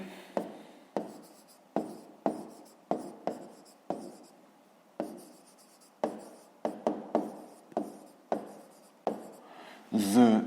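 Pen writing on paper in a maths exercise: a series of distinct scratchy strokes, each a sharp start fading out, in uneven rhythm, close and clear, with a louder rustle of paper at the end.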